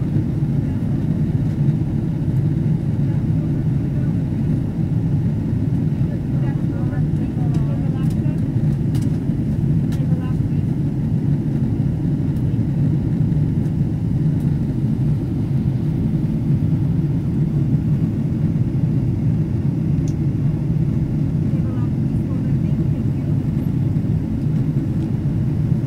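Steady, loud low roar of an airliner cabin as the plane descends toward Los Angeles International, a constant engine and airflow rumble filling the whole stretch with a few faint clicks on top.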